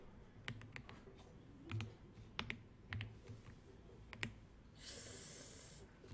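Keys clatter on a computer keyboard during a Korean-language Excel data entry lesson, a few scattered clicks and short bursts of typing, close and fairly quiet, ending with a brief hiss of noise.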